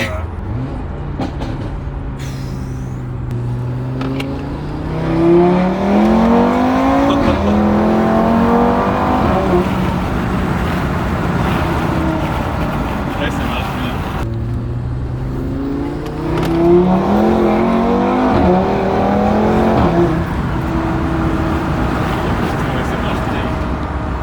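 Audi RS3 tuned by Shiftech to 510 hp accelerating hard in two loud surges, the engine note rising through the gears with a brief lift between pulls, heard from inside with people talking over it.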